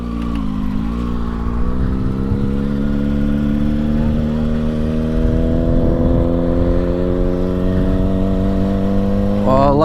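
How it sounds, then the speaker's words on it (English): A stunt motorcycle engine idles steadily while warming up after starting, with a continuous close mechanical hum whose pitch creeps slowly upward. "luckily I didn't have to pop start my bike. She fired right up, which is nice. So as I warm up the bike"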